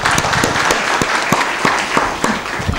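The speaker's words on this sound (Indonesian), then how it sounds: "Kita berikan aplaus kepada beliau." An audience claps for a speaker at an Indonesian panel discussion on open online learning, sustained dense applause filling the room at a steady level, with sharper individual claps standing out near the front.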